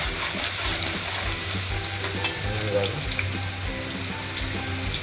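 Onion dropped into hot oil for a bazawada chapala pulusu fish curry, a loud, steady sizzle and crackle of frying with occasional stirring, close to the pan and continuous throughout.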